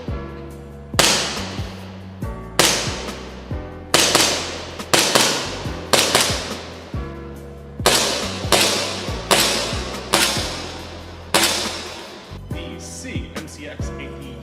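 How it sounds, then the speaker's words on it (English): An urban gray ASG CZ P09 airsoft pistol fitted with an Acetech Lighter-R tracer fires .20 g red tracer BLS BBs, about a dozen sharp, loud pops spaced roughly a second apart, each with a brief decaying tail. "ASG CZ P09, urban gray, suppressor ready, firing the Acetech Lighter-R in red mode"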